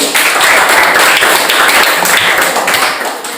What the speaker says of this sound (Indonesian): Tepuk tangan dulu Pak Alim.